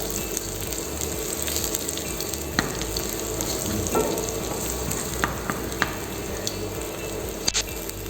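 Ginger, garlic and chilies sautéing in a wok over a low flame, a steady close sizzle and frying hiss with occasional stirring clicks and scrapes, heard alone.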